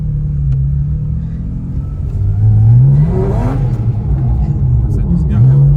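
A brand-new car being run in accelerates while driving, its engine note climbing in pitch, dropping back and rising again with a steady rumble underneath.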